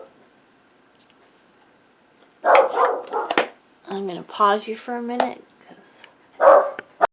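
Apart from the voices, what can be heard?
dog barking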